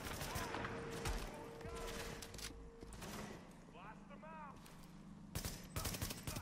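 Gunfire in The Division video game, shooter game combat with bursts of rapid automatic fire and scattered shots through the clip, with people talking over it.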